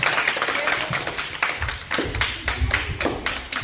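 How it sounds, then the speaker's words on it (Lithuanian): An audience claps together at a children's dance program, a steady run of fairly close hand claps with some dull thumps mixed in. "plojimai, paplojam."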